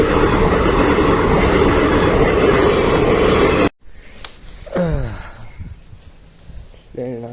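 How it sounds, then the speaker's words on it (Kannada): Loud, close rumble and clatter of a passing train at a level crossing, steady for several seconds before cutting off sharply, followed by quieter background sounds and voices. "ಬತ್ತೈತೆ ಟ್ರೈನ್ ಇಲ್ಲೇ"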